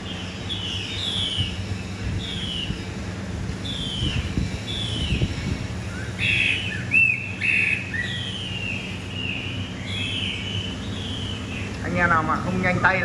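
A hwamei songbird gives repeated whistled phrases at moderate volume, with a few brighter notes in the middle, over a steady low hum and some background noise.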